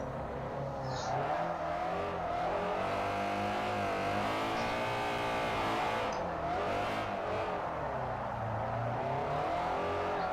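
A racing car in Forza Motorsport 4 drifts and spins out on the Fujimi Kaido course, engine revving and wavering in pitch continuously with tire scrubbing, loud and steady throughout.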